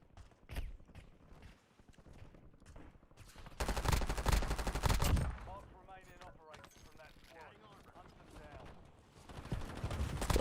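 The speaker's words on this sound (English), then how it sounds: "They're fucking shooting a pistol that I can't see." Pistol shots in a video game crack out in scattered single bangs and then a dense loud flurry of rapid gunfire, mixed with game noise and a person talking.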